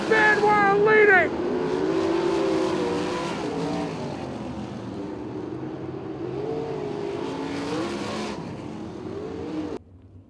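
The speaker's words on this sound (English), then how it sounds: "Dietrich slides in front of Gladfelder and grabs the race lead" 410 sprint cars race at Lincoln Speedway, their engines roaring loudly as they pass near, the pitch sliding and revving, then fading into a more distant drone under a race announcer.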